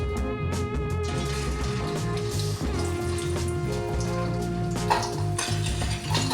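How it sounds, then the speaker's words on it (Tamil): Okra sliced for a crispy stir-fry crackles in hot oil in a pan, a steady, close, rain-like sizzle over a sustained tonal background. "இதில் கொஞ்சம் வெண்டைக்காயை 2 போட்டு பொரிச்சு எடுத்துக்கலாம்."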